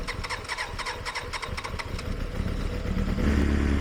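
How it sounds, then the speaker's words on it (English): A Kawasaki ZXR400 motorcycle, a budget build with an electrical fault, cranks with a rapid starter clatter, then catches and settles into a steady, close mid-pitched idle. "now I'm going to attempt to start the bike"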